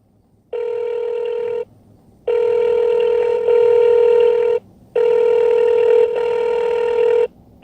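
Phone ringback tone heard while a driver redials a customer, repeating in long loud bursts separated by short silent gaps, with no talking.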